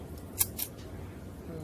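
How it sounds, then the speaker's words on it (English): Scissors trim a ribbon bow for dollar-store Halloween decor, making two quick, close snips over a quiet room. "I'm actually going to cut that a little bit more."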